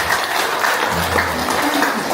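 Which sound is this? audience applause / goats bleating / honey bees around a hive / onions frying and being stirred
audience applause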